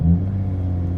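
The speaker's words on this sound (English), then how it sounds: "yes, the engine pops right on." A Porsche Panamera E-Hybrid engine fires up in sport mode with a brief louder surge, then settles into a steady, close, deep rumbling idle that continues alone.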